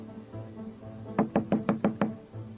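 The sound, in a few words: thumping knock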